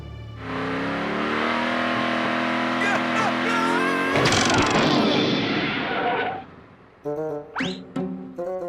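A cartoon car revs hard and accelerates with a rising engine roar, then a burst of harsh noise as it jumps from ramp to ramp, followed by a few short whooshes and clunks.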